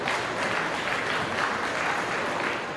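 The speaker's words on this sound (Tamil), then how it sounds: "எல்லாரும் ஒரு பெரிய கைத்தட்டல் கொடுத்துடலாம்." An audience at an award ceremony at a Dinathanthi arts and literature festival claps steadily, a dense, even wash of applause from many hands filling the hall without pause.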